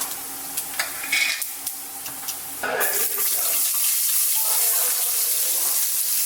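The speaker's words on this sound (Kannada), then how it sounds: "ಮಸ್ಟರ್ಡ್ ಆಯಿಲನ್ನು ಹಾಕ್ತಾ ಇದ್ದೀನಿ ನಾನು. ಇದಕ್ಕೆ ಸ್ವಲ್ಪ ಆಯಿಲ್ ಜಾಸ್ತಿ. ಜೀರಿಗೆ ಹಾಕೋಣ, ಸ್ವಲ್ಪ ಫ್ರೈ ಆಗಲಿ ಜೀರಿಗೆ" Cumin seeds frying in hot mustard oil: a few sharp clicks and clatters first, then a sudden loud, steady crackling sizzle that continues close up to the end.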